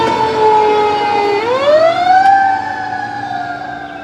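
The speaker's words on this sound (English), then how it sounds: "here come more sirens. That's a fire." A fire engine siren wails loudly nearby in a residential neighborhood about a quarter mile from the fire department, holding a steady tone, then sweeping upward in pitch and settling on a higher sustained wail, with no talk.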